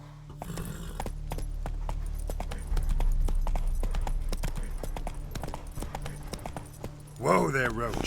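Hooves of Roach, a horse in The Witcher 3, clip-clop in a brisk steady rhythm close by, with a horse snort near the end and a voice talking over the hoofbeats.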